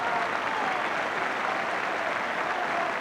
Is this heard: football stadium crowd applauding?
yes